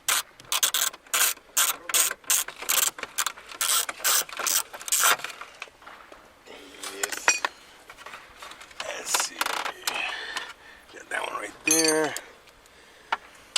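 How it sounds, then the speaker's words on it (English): Screws being backed out of the center console of a 1993 Ford Mustang with a ratcheting tool: a rapid series of close clicking ratchet strokes, then scattered rubbing and handling noises, with a brief spoken word. "Pull the screws out."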